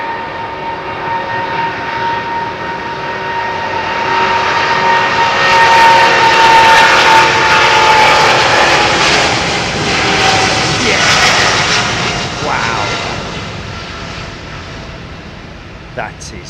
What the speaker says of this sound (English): And that is one of the early 777s, I think you'll find, folks.